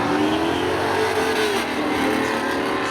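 A Pontiac Firebird and a Chevy Camaro launch side by side at a spectator drag race at Seekonk Speedway, engines roaring loudly and climbing in pitch as they pull away.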